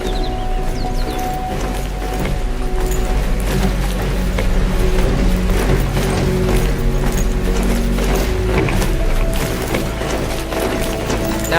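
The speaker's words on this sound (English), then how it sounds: "See some of these tall necks here walking by." Giant Tallneck machines walk by in Horizon Zero Dawn with continuous mechanical clanking, ratcheting and whirring gears, plus a low rumble, steady and fairly loud throughout with no voices.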